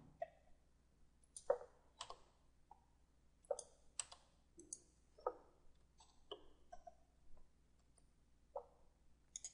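Sharp, quiet mouse clicks while working in Sridicad 2014 3D piping design software, landing one or two at a time in an irregular rhythm with near-silence between them.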